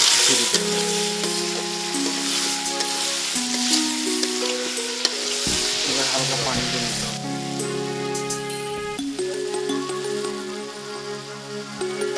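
Dried meat sizzles and fries in a pan on the stove, a steady hissing crackle that runs throughout beneath louder tuneful background music.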